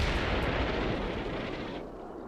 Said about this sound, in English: Just mortar the bridge.